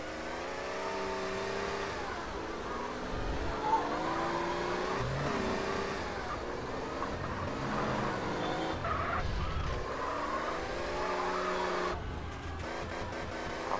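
Car engine in GTA San Andreas revving and accelerating steadily, with tyre skids mixed into a dense, continuous game soundtrack; no one talks.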